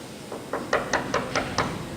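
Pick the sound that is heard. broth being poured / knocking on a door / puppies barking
knocking on a door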